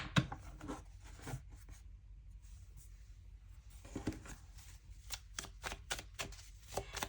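Tarot cards are shuffled close by in a quiet room, a series of soft papery riffles and slaps that come in irregular bursts, building into quicker clustered flicks toward the end.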